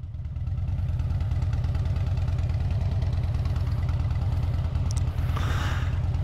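A motorbike engine idles close by with a fast, steady low-pitched chugging pulse, even and unbroken, and a brief hissy noise rises near the end.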